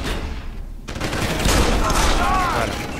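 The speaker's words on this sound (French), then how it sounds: "Je vais prendre le flingue, hein, il sera peut-être plus précis." Pistol gunfire in the video game Deus Ex: Human Revolution, a few sharp shots going off amid a dense, loud game soundscape of effects and background din.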